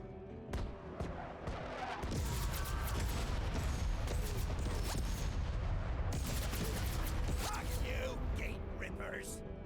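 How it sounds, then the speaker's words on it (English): Rocket artillery barrage in the Menace video game, a rapid cluster of sharp launches and booming impacts building into a loud continuous rumble, with someone talking over it. "drop the rocket organ shots, barrage, rather, I should say, right over here"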